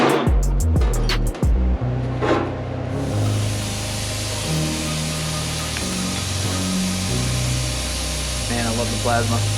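Plasma cutter slicing through a metal engine mount in a fabrication shop, a loud steady hiss and buzz running continuously with a few sharp bursts at the start, close by.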